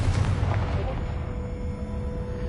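Confringo spell blast from Hogwarts Legacy, a loud booming burst at the start that decays into a low rumbling tail.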